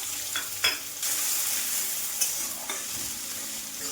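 Loud, continuous sizzling of chopped green chillies and onion frying in hot oil, with occasional clinks and scrapes of a spatula stirring the pan.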